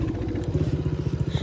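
A Coolster four-wheeler engine idles close by after starting, with a rapid, even, chugging putter that holds steady for the whole short stretch.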